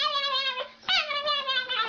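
Whining, high-pitched cries from Krypto the super dog in a Superman film scene, two long wavering whimpers close up with a brief break between them.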